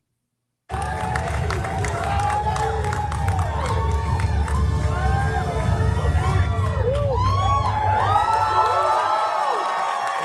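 An event crowd cheering and screaming for Timothée Chalamet, loud and continuous, with shrill whoops and shouting voices rising over a dense roar after a sudden start.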